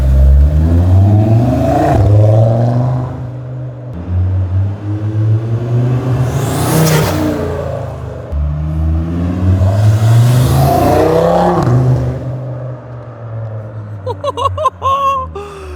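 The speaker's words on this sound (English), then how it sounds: "Dude, that thing whistles like crazy. Oh my God, you hear crazy intake noise." An Audi RS3 fitted with a big aftermarket intake revs repeatedly in loud, close bursts that rise and fall with a sharp whistling whine over the engine roar.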